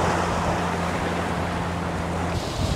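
Big ocean waves wash in a continuous roar against a rocky shore, loud and close, with a low steady hum running underneath.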